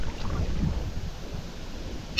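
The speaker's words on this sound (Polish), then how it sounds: "Czy ten wiatr przestanie kiedyś wiać?" Strong wind blowing over a river during kayak fishing, heard as a gusty, rumbling buffeting on the microphone with low roaring swells and a brief sharp crackle near the end, no voices.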